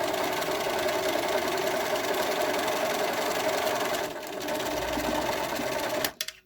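A sewing machine stitches a fabric scrunchie with elastic inside, a continuous close, fast mechanical hum that briefly slows near the end, then stops with a couple of clicks.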